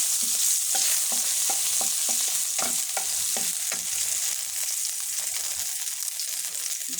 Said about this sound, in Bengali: তারপর একটু নাড়াচাড়া করে নেব।